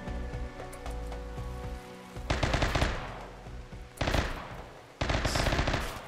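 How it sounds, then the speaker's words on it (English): Automatic rifle fire crackles in rapid bursts in the video game RimWorld, loud and close, with a stretch of steady shots followed by three separate dense volleys, each starting abruptly. "Someone's got their OC rifle out."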